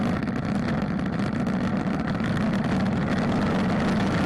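A Kawasaki Voyager 1700 motorcycle engine drones steadily while riding, a constant loud low rumble mixed with wind rush and no pauses.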